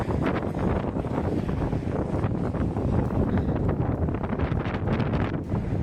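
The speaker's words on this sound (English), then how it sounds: "And it's really windy out here." Strong wind blows outdoors, a steady loud broadband roar with gusty buffeting on the microphone throughout, no voices.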